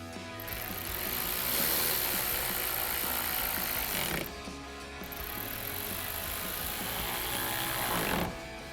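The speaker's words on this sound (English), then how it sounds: "tighten it down with our 10mm socket" A 10mm socket on a ratchet tightening headlight hardware on a 2009-2018 RAM 1500, giving a close, rapid clicking ratchet in two long runs with a short pause between them.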